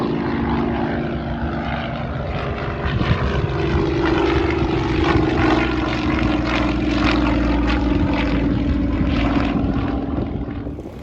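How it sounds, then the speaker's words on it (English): A Yak-52 Russian trainer with a radial engine flies past, its steady propeller drone loud and continuous with a slight swell mid-pass, no voices over it. "you're going to get to hear that radial engine again as it flies over."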